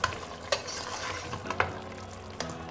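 Braising meat with chopped tomato is stirred in a pot, several distinct scraping strokes over a continuous close sizzle.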